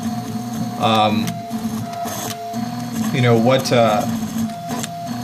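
A RepRap Prusa i2 3D printer printing runs with steady motor whine and stepping tones, while someone talks over it at close range.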